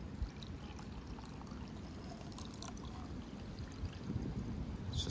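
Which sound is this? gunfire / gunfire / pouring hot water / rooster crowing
pouring hot water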